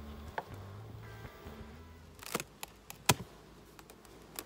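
Bees hum faintly around an open, queenright beehive, a soft buzz broken by sharp clicks and knocks as the hive is worked.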